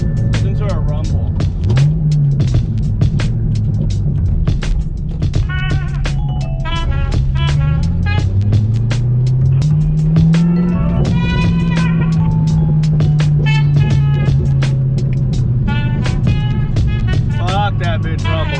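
Chevrolet Corvette Z06 V8 exhaust rumbling steadily at low pitch with rising and falling revs, close and loud, while people talk over it throughout.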